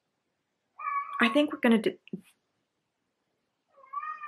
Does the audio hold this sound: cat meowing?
yes